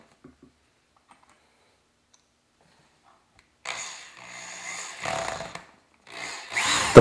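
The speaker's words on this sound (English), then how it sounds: "Attach the 2 4-inch blocks to the legs by drilling pilot holes and securing with screws." After a few seconds of near silence, a power drill whirs in three bursts, drilling pilot holes through wood blocks into ladder legs, the last burst rising in pitch as it bites into material.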